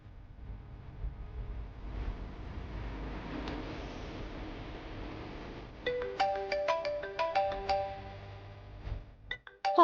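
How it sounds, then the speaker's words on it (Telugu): A phone ringing with a call from the office, a melodic electronic ringtone of rapid repeating notes that starts partway through over a low background murmur, growing louder near the end. "ఆఫీస్ నుంచి ఫోన్ రా"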